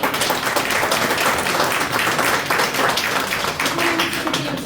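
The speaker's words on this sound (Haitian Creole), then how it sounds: "On nous applaudit." A gathered crowd gives sustained, loud applause, many hands clapping in a dense continuous wash that runs unbroken from start to finish.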